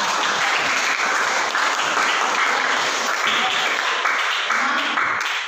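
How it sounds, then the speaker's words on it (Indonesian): Children in a classroom applaud together, a dense continuous patter of clapping that holds steady and close for several seconds. "Ya, tepuk tangan anak-anak."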